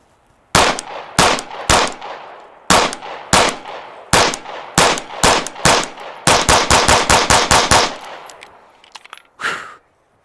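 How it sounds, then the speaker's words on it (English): A Canik Mete MC9 Prime pistol fired in a loud, close string of sharp shots. The first shots come at a steady pace, then a rapid flurry follows, and one last shot rings out after a pause. "last shots with the Canik Mete MC9 Prime"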